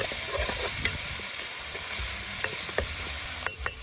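Aromatics for a Thai holy-basil stir-fry with beans sizzle hard in a hot pan, a loud, constant crackle punctuated by quick scraping strokes of a spatula tossing the mix.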